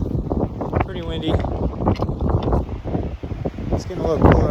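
Gusty wind in Surprise Canyon, Death Valley, roaring and battering the microphone in loud, uneven surges, while a voice speaks intermittently through it.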